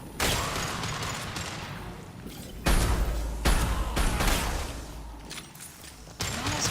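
Semi-automatic gunfire in a video game, a series of sharp separate shots and heavier booms spaced irregularly over a dense, noisy game soundscape.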